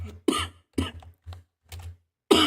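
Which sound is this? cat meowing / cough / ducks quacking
cough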